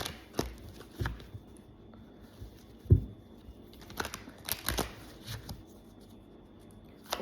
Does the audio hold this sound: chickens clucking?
no